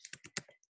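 A few quick keystrokes on a computer keyboard, close and soft, in a short uneven run with no voice.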